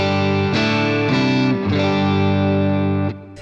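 Electric guitar played through an Axe FX III modeller on a clean tone with slight grit, sustained chords ringing out in several strummed changes, close and full, no talking.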